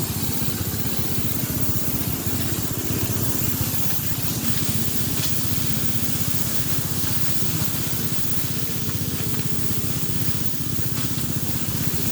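Motorized pesticide sprayer mists mango trees in an orchard, a steady loud broadband hiss with a constant engine drone underneath, unbroken for the whole stretch with no voices.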